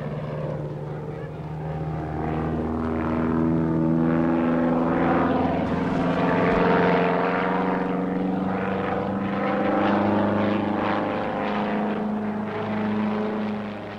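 A specially designed aerobatic Clark's propeller airplane drones steadily overhead, its engine hum holding a sustained tone that swells slightly in the middle, with no talking.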